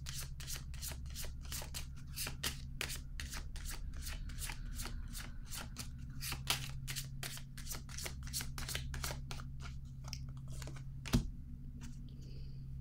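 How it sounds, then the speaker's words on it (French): Cards being handled and laid down during a card reading: a steady run of crisp, close card snaps and flicks over a low constant hum, with one sharper knock near the end. "Je vais déposer une carte ici maintenant."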